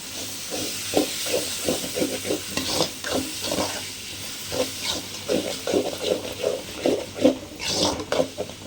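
Four medium-sized tomatoes fry and sizzle in a pan for quail gravy, with a steady hiss broken by repeated stirring scrapes throughout, close and moderately loud, no talking.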